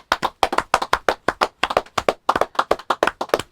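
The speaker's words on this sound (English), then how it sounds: "Can I get a round of applause?" Sharp, distinct hand claps ring out in a quick, uneven rhythm at a UK rap podcast recording, about twenty claps from a small group, close and loud with short gaps between bursts.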